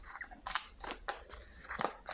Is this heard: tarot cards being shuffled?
yes